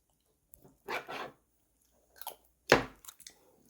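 A young child at breakfast chews gukbap, a Korean rice soup, with a few soft wet bites and crunches close to the ear, spaced irregularly between quiet pauses.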